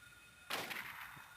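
A single gunshot in the Silent Hill video game, one sharp loud crack that bursts out after a quiet moment and rings briefly before fading.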